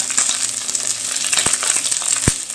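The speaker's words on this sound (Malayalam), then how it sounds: "നല്ല വെളിച്ചെണ്ണയാണ് ചെമ്മീൻ ഫ്രൈ ചെയ്യാനായിട്ട് ഫ്രൈ ചെയ്യാം" Prawns fry in coconut oil with curry leaves in a pan, giving a steady close hiss of sizzling with a couple of sharp clicks or taps, no talking over it.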